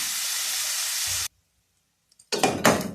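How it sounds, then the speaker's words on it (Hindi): Onions fry in a pan while being browned for a pea chicken curry, a loud steady sizzle that cuts off abruptly, a pause of silence, then clattering stirring bursts. "प्याज को उस वक्त तक भूनेंगे जब तक कि वो लाल नहीं हो जाता"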